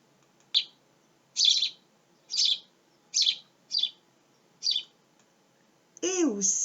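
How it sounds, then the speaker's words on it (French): Birds chirp alongside Simon's flute: six short, bright tweets spaced about a second apart, then a louder swooping tonal note rises up at the end. "les oiseaux qui sifflaient avec la flûte de Simon"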